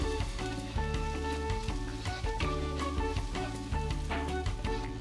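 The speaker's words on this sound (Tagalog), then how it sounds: "So ayan, gisa muna natin." Bay leaves and crushed black pepper sautéing in a hot pan, a continuous dense sizzle holding steady at moderate loudness with no talk over it.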